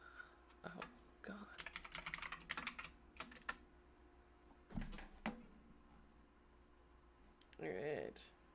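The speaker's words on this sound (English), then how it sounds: "I have a very clicky keyboard because it makes me happy inside." Rapid bursts of typing on a clicky computer keyboard, close and crisp, with scattered pauses between runs of keystrokes; a voice speaks briefly near the end.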